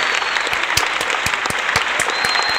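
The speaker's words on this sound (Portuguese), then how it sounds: "Vamos bater palma pro chocolate sensual." Indoor applause at a motorcycle launch event, a steady, moderately loud patter of many hands clapping, with a few louder individual claps popping out near the microphone.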